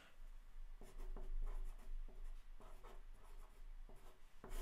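A pen scratches across paper up close, quiet strokes in irregular bursts with small taps as it lifts and lands, over soft background hiss.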